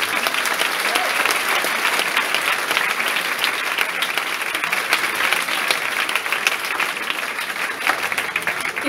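Audience at a Christmas concert applauding, steady dense clapping that holds at a constant level throughout, with no talk over it.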